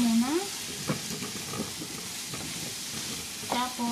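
Butternut squash stirred in a pot: a steady hissing sizzle with occasional scraping stirs, and a short voice sound at the start and end.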